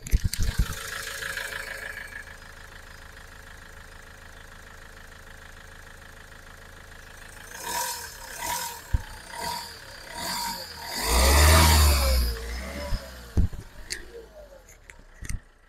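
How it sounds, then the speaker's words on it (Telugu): A 2017 Mahindra XUV500 W6 engine idles steadily in the background, a low continuous hum that rises into louder revving and rattling bursts toward the end. "సో ఇది ఇంజన్ సౌండ్ కూడా చాలా ఎక్సలెంట్ కండిషన్లో అయితే ఉంది"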